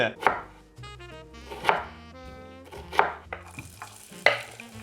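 An onion is chopped with a knife: four sharp, well-spaced chops over steady tonal background music.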